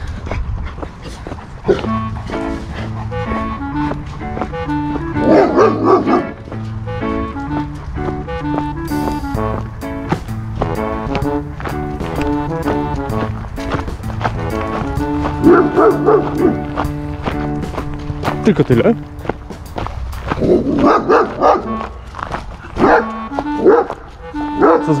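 Several dogs barking on a street, repeated loud barks and yips from nearby and farther off, recurring in bursts throughout with brief speech in the middle.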